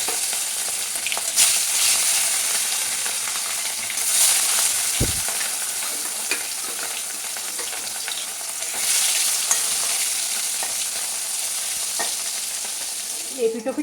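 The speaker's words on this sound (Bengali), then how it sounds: "এবার তেলে দিয়ে লাল লাল করে ভেজে নেব।" Fish marinated in salt and turmeric fries in hot oil with a continuous, even sizzle and crackle, steady for the whole stretch, with an occasional soft knock of utensil on pan and no speech.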